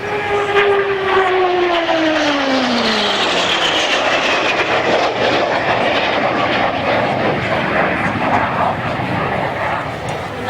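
Loud roar of a vintage aircraft at an air show passing close overhead, its pitch sliding downward as it goes by, then a broad steady rumble fading slightly.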